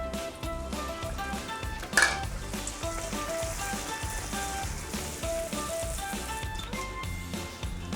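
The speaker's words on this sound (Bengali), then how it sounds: "এবার ভটুরেটা আমি ভেজে তুলে নিচ্ছি।" Bhatura frying in hot oil gives a faint sizzle under background music, with a single sharp clink of a utensil near the start.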